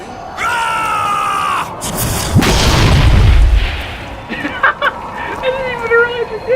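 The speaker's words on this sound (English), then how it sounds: "I didn't even realize you did that to the friggin' fireworks." Fireworks bursting in BioShock Infinite, a loud deep boom with crackling debris in the middle, framed by whistling tones and a crowd murmur, with someone talking over parts of it.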